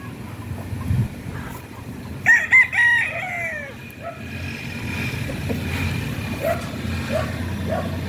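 Gamecock rooster, offspring of Cardinal Kelso, gives one clear crow near the middle, with a dog barking and faint clucks around it.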